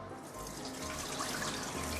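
Milky, starchy rice-washing water pours out in a steady, close rushing stream that lasts throughout, with no voices.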